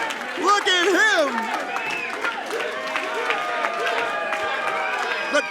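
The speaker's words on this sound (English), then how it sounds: "The crowd on their feet!" Wrestling crowd at a live show cheering and applauding on their feet after a high-flying dive, a dense, sustained roar of voices and clapping with shouts and whistles rising over it throughout.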